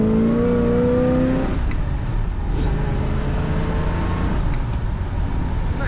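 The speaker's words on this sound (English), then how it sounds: "Nice acceleration in this Chevrolet." A 1967 Chevrolet Impala SS 2-door hardtop pulls away from a roundabout, its engine note rising then settling into a steady cruising drone with road noise, heard from inside the cabin.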